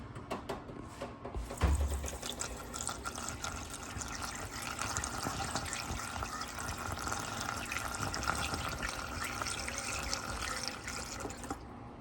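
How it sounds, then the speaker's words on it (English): Rust remover is poured through a funnel into the fuel tank of a 1975 Honda XL125 motorcycle, a steady close liquid gurgle and trickle lasting several seconds after a brief knock. "we're gonna pour our rust remover in"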